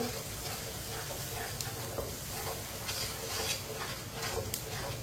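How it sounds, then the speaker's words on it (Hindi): Three eggs cook with okra in a pan over low heat, giving a steady soft sizzle and hiss with faint occasional scrapes of a stirring spoon, close and without talk. "अब इसमें 3 अंडे डाल लेंगे। इसे अच्छी तरह मिक्स करते हुए पका लेंगे।"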